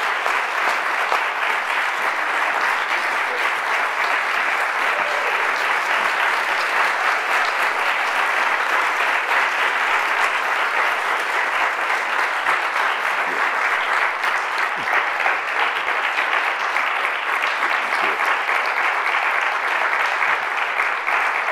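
Sustained applause from an audience welcoming guests to an onstage conversation, a steady dense wash of clapping that holds evenly at full strength throughout with no voices breaking through.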